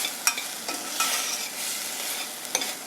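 Spices sautéing for dal tadka in a pan, a soft continuous sizzle with light spatula scrapes and taps every second or so, close but fairly quiet, no talk.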